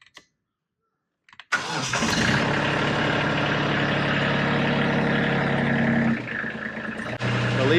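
A Kubota LX2610 tractor engine cranks briefly after a moment of silence, catches and settles into a loud, steady close idle with a small shift in tone near the end.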